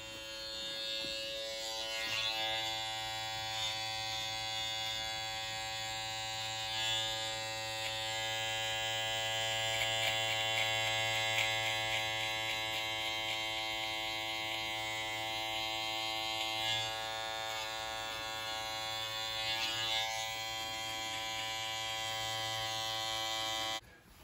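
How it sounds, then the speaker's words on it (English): Andis T-blade hair trimmer cutting hair while a barber rounds the edge around a client's ear during a haircut: a steady, close electric buzz with a strong mains-like hum that runs continuously, with slight changes in tone as the blade moves. "I'm using the T-blade to create the round edge around his ear."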